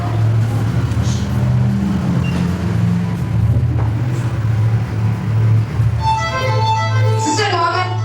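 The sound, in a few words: vehicle engine driving up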